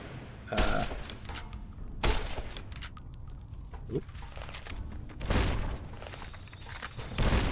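Explosions from the video game Fallout boom in several heavy, spaced blasts and thuds over a noisy game soundscape, loud and close, with no talking.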